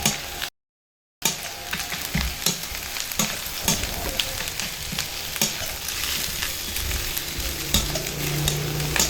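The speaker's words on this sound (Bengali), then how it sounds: "এবার এর মধ্যে কাজু বাদাম দিয়ে দিচ্ছি" Cashew nuts fry with spices for dal in a pan, a continuous sizzle broken by a brief silent gap early on, then steady stirring with frequent spatula scrapes and clicks, close and clear without speech.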